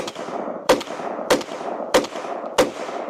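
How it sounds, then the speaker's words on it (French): Four sharp rifle shots firing homemade cast bullets ring out at a steady pace about two thirds of a second apart, each a loud crack with a short ringing tail, no speech. "Tirons maintenant."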